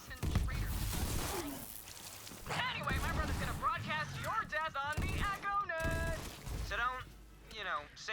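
Rapid gunfire from a weapon in Borderlands 3 pops in quick bursts, mostly in the opening seconds, as in-game characters and a player keep talking over and between the shots.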